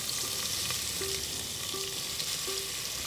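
Three thinly sliced onions are tossed in hot oil in a pan with cashews, giving a soft, continuous sizzle with faint stirring noises.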